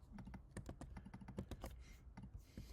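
The search phrase pantry cabinets being typed on a computer keyboard, a quick run of light, close key clicks at an uneven rhythm, soft and without any talk.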